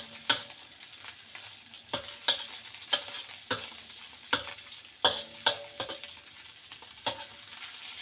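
Dried bean curd stir-fried with green beans in a wok, with a continuous sizzle and regular sharp scraping strokes of a spatula about once a second, close and with no talking.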